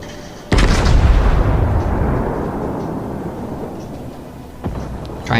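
Heavy naval gun shells fire in World of Warships during a battleship engagement: a loud booming blast with a long rumbling decay, then a second sharper boom near the end.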